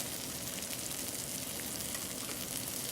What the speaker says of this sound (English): All I do is I sear it off.